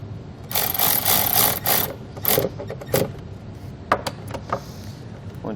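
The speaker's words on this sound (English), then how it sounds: "And then you can reinstall the nut." Reinstalling a nut over a wiring ring terminal on a 2016 Kia Optima with a Curt T-connector harness: close rasping and scraping metal tool sounds, followed by sparse sharp clicks and taps, no talking.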